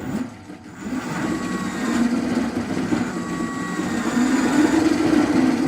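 Brushed electric motor driven by an ESC and coupled to an alternator, spinning up with no engine braking: a steady mechanical whir and hum that builds gradually in loudness and pitch over several seconds, close and alone.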